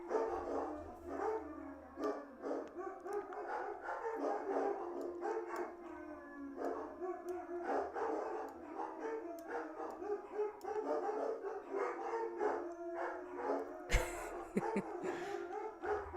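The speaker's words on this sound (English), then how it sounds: "the dogs are howling" Dogs howl in long, overlapping, wavering calls, fairly distant and faint, repeating steadily with occasional yips and barks mixed in.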